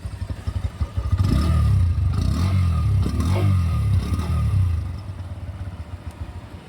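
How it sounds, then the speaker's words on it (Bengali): A 2025 Bajaj Pulser 125 with an underbelly exhaust idles briefly, then revs hard for several seconds in a loud, steady roar before dropping back to a throbbing idle, heard close up. "একবার এই বাইকের সাইলেন্সারটা শোনো।"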